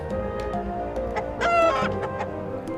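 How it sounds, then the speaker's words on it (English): Chicken sound effect in the video game Last Dream: a short burst of repeated clucks rising into a brief squawk over a faint steady game music bed. "Yes, and it makes chicken sound."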